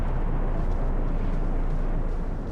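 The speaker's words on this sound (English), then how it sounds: "I think the volcano might have exploded." A volcano erupts in Genshin Impact with a loud, sustained low rumble that roars steadily for the whole stretch and tapers only slightly at the end.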